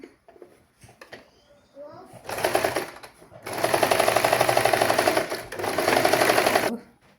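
A sewing machine stitches a pleated frock in two sustained runs of steady mechanical whirring, preceded by brief quiet handling sounds, loud and close.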